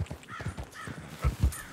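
A crow caws a few times in Red Dead Redemption 2, faint and somewhat distant over quiet outdoor game ambience with soft thuds.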